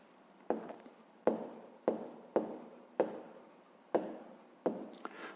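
A pen writes numbers by hand on paper, close and quiet. Seven short, evenly spaced scratching strokes are heard, with no talk.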